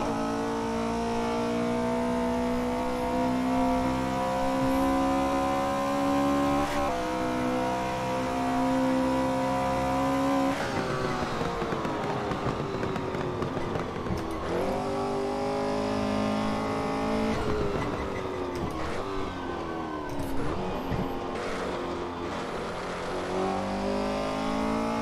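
A 1968 Porsche 908 LH race car runs at the Nürburgring, its engine holding a loud, steady high-pitched drone with repeated shifts and revs as it accelerates and brakes through corners, with no speech.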